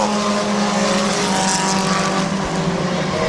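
Race cars roar continuously around the oval at Midvale Speedway on the final laps, a loud, sustained engine drone with broadband crowd-like wash and no pauses.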